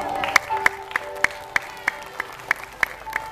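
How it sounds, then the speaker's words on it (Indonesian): Slow, evenly spaced claps, about ten sharp hits in a row, with a faint murmur of voices behind them, at a children's Ramadan school storytelling event. "tepuk tangan buat kita semua"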